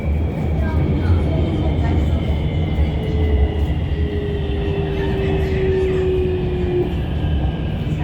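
A Shenzhen Metro Line 9 train pulls into the station at Shenzhen Bay Park, giving a loud, steady rumble of wheels and motors with a rising whine that holds through the arrival.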